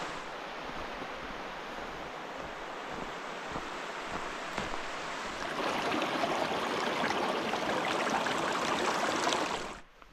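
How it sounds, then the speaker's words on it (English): The River Barle on Exmoor, a snowy winter river, rushes in a steady flow beside a bridge, then swells louder and nearer for the last few seconds before cutting off, with no one talking. "So here's the River Barle, which we just cross this bridge and then follow it to Dulverton."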